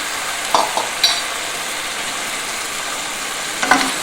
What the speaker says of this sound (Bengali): আলুটা দিয়ে ভালো করে আমি কষিয়ে নেব